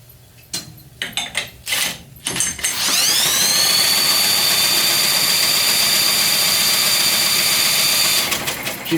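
A Craftsman Briggs 190cc OHV small engine, water-damaged and dirty, is cranked with a few rough bursts before it catches and spins up into a loud, steady close drone, then winds down near the end.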